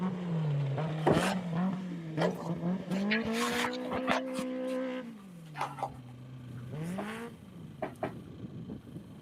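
A 2022 Polaris Pro R off-road race car at NORRA Baja qualifying in Ensenada revs and shifts loudly nearby, its engine pitch climbing and falling in repeated surges with sharp bursts of tire and gravel noise.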